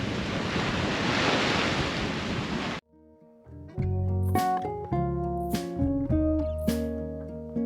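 Strong wind roars and buffets the microphone over rushing water aboard a sailboat off Corsica for a few seconds, then cuts off as music with bright chimes takes over.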